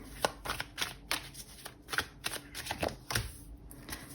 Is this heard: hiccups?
no